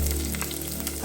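Onion and ginger sauté in a hot pan for Filipino chicken tinola, giving a steady, close sizzle with a low continuous hum under it and a brief louder crackle near the end.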